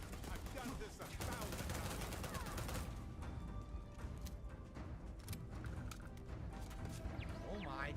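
Rapid gunfire and explosions in a video game shooter, dense bursts of shots and blasts crowding together in a loud continuous barrage, with a voice heard briefly.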